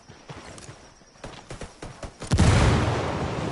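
A frag grenade explodes in the video game Ghost Recon Wildlands, a sudden heavy boom that rolls out and lingers after a series of sharp, scattered shots and footsteps.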